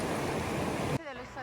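Water of the Nantahala River rushes in a steady, full broadband roar for about a second, then cuts away to a voice talking over quieter background.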